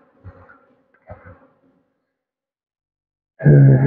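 Honey bees buzz at a hive in two short bursts, then a much louder, close buzzing swells in at the end.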